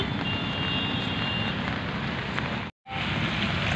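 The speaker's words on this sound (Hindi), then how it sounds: "दोस्तों देखिए बाहर कितनी बरसात हो रही है" Heavy rain pours outside a juice shop in Noida, a dense steady hiss close by, broken once by a brief drop-out.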